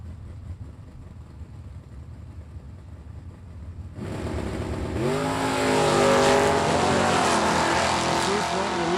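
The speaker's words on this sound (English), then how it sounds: "The Oldsmobile Achieva going to go to the quarter mile." An Oldsmobile Achieva launches on a drag strip quarter-mile pass at a racing event, its engine roaring loudly after a quieter idle and building through rising revs and gear changes.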